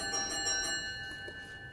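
Bell ringing in a parliamentary committee room, a faint sustained ringing tone over quiet room noise that fades partway through, with no speech.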